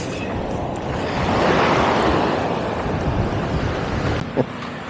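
Ocean waves on a beach in Phuket, Thailand, a broad rushing surf wash that swells in the middle, with wind buffeting the microphone throughout.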